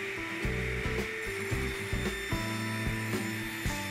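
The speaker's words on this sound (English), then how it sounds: "I start off on the joiner and establish two flat surfaces that are square to one another." A jointer flattens reclaimed southern yellow pine for coffee table legs. Its steady, close motor drone is broken by a regular series of thumping passes as the cutter head works the board.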